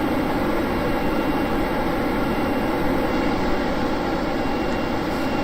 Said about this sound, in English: I kind of hate how loud the jet engines are